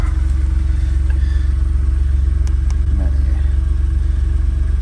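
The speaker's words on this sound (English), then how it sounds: "Obviously cranking test, it barely cranked then" A car engine barely cranks and then catches during a battery test, giving a steady loud low rumble with faint clicks and clatter on top, heard close and without talking.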